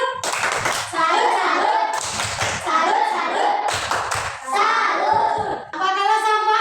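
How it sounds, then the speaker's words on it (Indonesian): Children clap a short patterned cheer together in a classroom, three or four bursts of rhythmic hand claps mixed with kids' voices chanting along, fairly close and loud. "Kasih tepuk salut."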